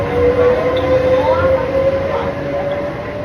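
Steady rumble and hum of a train at an Italian station platform, with a sustained tonal whine running throughout and faint background voices.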